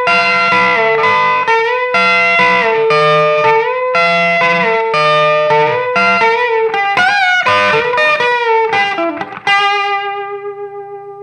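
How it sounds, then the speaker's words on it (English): A distorted electric guitar plays a lead riff with effects, sustained notes and bends, ending on a ringing chord that fades out. "So that last little part on the outro of this guitar sounds like this."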